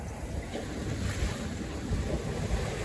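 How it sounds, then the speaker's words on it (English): Ocean waves wash against an Islander 36 sailboat at sea between Hawaii and California, a steady rushing surge mixed with heavy wind noise buffeting the microphone. "Waves."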